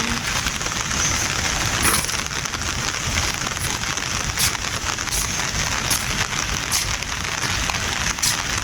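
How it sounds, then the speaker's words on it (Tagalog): Light rain falls steadily at Laguna de Bay during a typhoon, a constant close patter on surfaces with no wind or voices, even and unbroken throughout. "hindi naman ganun kalakas ang ulan"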